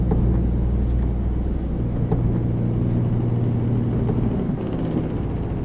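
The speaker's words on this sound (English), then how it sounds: "Heard that truck using his Jake brake" A truck on the road applies its Jake engine brake, a loud, low, continuous rumbling growl heard close from inside a moving vehicle under steady road noise.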